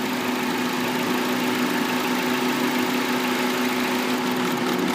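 A Honda Accord engine idles with one fuel injector unplugged, making it misfire. The close, steady mechanical drone and hum hold on without a break, and no one talks.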